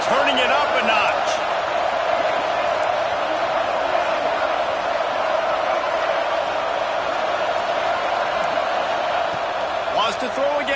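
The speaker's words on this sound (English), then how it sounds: "this crowd is turning it up a notch" Loud, sustained roar of the stadium crowd at an Ole Miss versus Florida college football game, a constant dense wall of cheering voices with brief sharper shouts near the end.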